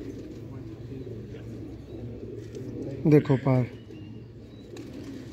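Golden high-flying pigeons of the Mian Nazir bloodline coo softly in the background while someone speaks nearby, his voice rising briefly louder over the low, continuous bird murmur.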